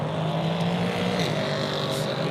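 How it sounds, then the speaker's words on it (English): Nissan V8 prototype race car in a European Prototype Sprint Cup race at Magny-Cours, its engine howling loud and steady with a sustained high whine throughout, no voices. "Enjoying the howl of that Nissan V8 engine."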